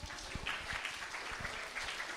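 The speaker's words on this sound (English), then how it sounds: "Can we good. give our brother a big round of applause?" Audience applause, a dense patter of many hands clapping steadily at moderate loudness for a couple of seconds.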